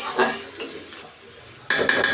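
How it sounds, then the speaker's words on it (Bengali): Onion and garlic sizzle in hot oil while a spatula scrapes and clinks against the pan in short, loud bursts separated by a quieter stretch of soft frying. "এটা পেঁয়াজ আর রসুন আমি সুন্দরভাবে ভেজে নিচ্ছি"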